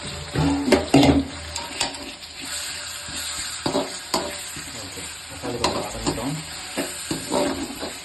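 Onion and tomato fry in oil for a fish curry, meen kulambu. A spoon scrapes and stirs against the pan in uneven bursts over a constant close sizzle, with no talking.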